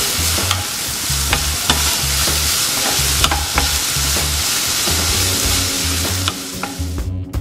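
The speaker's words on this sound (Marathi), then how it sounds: "आता हे आपण छानपैकी हलवून घेऊया।" Green chillies sizzle in oil in a pan for eggplant bharta while a spoon stirs them, giving steady frying crackle with repeated scraping strokes close up.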